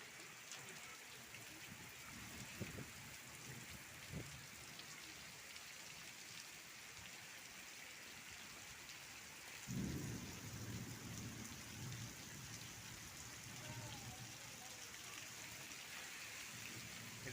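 Heavy rain pours steadily during a thunderstorm with wind, a constant hiss of falling water broken by a deep thunder rumble partway through, heard from a distance at low volume.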